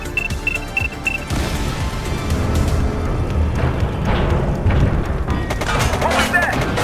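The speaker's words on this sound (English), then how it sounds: "We may not have the time to stop the explosion." Explosion in the video game The Precinct, a loud sustained rumbling blast with booming low-end crashes and debris-like clatter that continue for several seconds, no clear speech over it.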